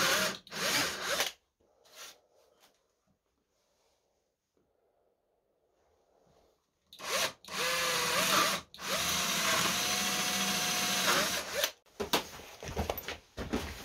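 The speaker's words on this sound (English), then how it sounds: "I'm drilling a 10 millimeter hole" A power drill bores 10 mm holes in a DeWalt TSTAK tool organiser insert for screwdrivers. Loud, close bursts: two short runs, a quiet gap, then long steady whirring passes broken by brief stops.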